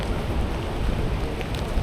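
Steady rain falling outdoors on a street beside trees in autumn, a dense continuous hiss with no distinct drops, moderately loud and unbroken throughout.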